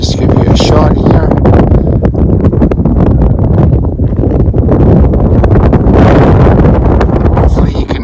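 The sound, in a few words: wind blowing at the top of a coulee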